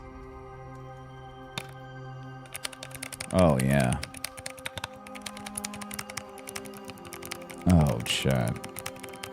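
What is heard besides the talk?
clicky mechanical keyboard with Glorious Raptor switches, putty keys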